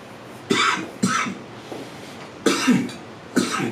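Someone coughs while using hair spray during a pin curl styling session, four or five sharp close coughs in quick bursts with short pauses between them.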